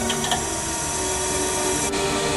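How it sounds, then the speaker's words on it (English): The hydraulic system of an ACER Supra-818AHD surface grinder runs with a steady, loud mechanical drone and hum, shifting slightly near the end. "Turn on hydraulic system."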